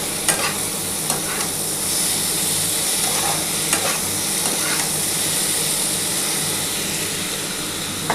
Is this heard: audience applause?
no